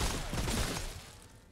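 Heavy cannon fire in the video game Remnant from the Ashes, a single dense, rumbling blast that fills the short moment and slowly fades, fairly quiet overall.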